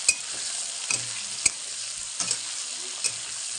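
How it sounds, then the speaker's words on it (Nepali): Tomatoes frying in a pan for momo filling give a steady bright sizzle, broken by a handful of sharp scrapes and clicks from a spoon stirring at uneven intervals, close up and with no voices. "थोरै टमाटर हालिदिने, मजाले यसलाई चलाउने।"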